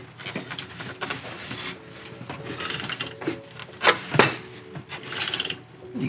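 A serpentine belt on a Subaru Legacy GT is cranked around its pulleys, producing uneven rubbing, scraping and ratcheting clicks close by, with a few sharper knocks as it seats.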